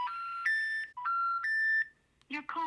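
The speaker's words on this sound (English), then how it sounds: "So I actually just tried to call the number, as you guys saw, and for some reason it wasn't working" Telephone dialing a number whose call does not go through: a string of clear electronic tones, steady and sharp, then a brief automated voice message.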